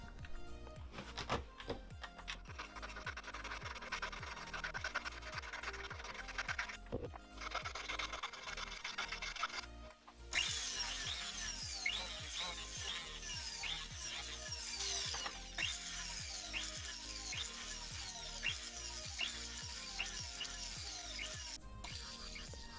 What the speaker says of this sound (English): I go ahead and file the base of the shank to give a more finished look.